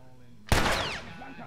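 A single loud shotgun blast goes off in The Last of Us Remastered on PS4, a sharp crack followed by a lingering, decaying tail over faint background game ambience.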